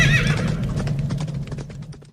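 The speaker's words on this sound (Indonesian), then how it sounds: "Tiba-tiba datanglah kereta berapi dan kuda berapi muncul memisahkan Elia dan Elisa" Hooves of fiery horses clatter in a rapid, irregular clip-clop, close and loud, opening with a horse whinny and then thinning out as the galloping fades.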